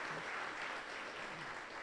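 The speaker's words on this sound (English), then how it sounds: "that deserves a round of applause" A modest room of people at a civic club luncheon gives a brief round of applause, a soft, even patter of clapping heard at a distance.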